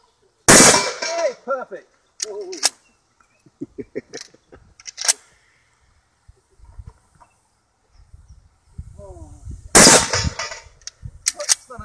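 Two loud, sharp gunshots from a handheld firearm at a shooting practice, one near the start and one near the end, with voices coaching and praising in between.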